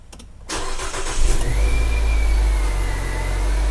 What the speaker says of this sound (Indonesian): Kita coba running engine-nya.